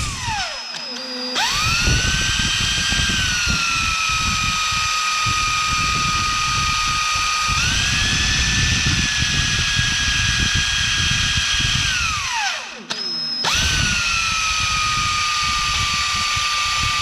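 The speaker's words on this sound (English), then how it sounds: "now I've got the drill that matches" Electric drill boring M3 holes in a rocket body tube, a high whining motor spinning up, running steadily under load for several seconds, stopping, then starting again; close and loud with no talk.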